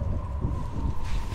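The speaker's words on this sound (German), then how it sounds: "Das ist ganz schön windig geworden jetzt." Steady wind rushing and buffeting, with a low rumble throughout and no voices.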